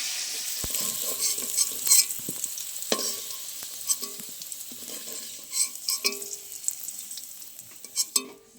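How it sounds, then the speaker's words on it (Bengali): Tilapia fish fries in oil seasoned with salt and turmeric, a close sizzling hiss broken by spattering pops and the scrape and clatter of stirring against the pan. "অল্প পরিমাণে নুন দিয়ে দেবো, দিয়ে দেবো হলুদ গুঁড়ো, ভালো করে লাল লাল করে ভেজে নেব"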